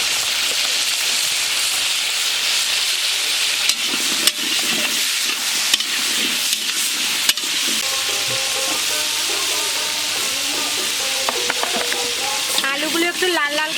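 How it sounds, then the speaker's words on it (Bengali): Potatoes fry in oil in a pan during a New Year's picnic cookout, a loud steady sizzle broken by scraping clanks as they are stirred, with faint background voices and chatter toward the end. "আলু ভাজি করে নিচ্ছি।"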